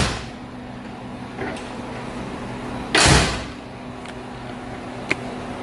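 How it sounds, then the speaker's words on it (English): A custom door on a 1971 donk convertible shuts with one solid thump near the middle, preceded by faint handling clicks and followed by a small click, close and alone with no talk. "Custom door panels and it still shuts right."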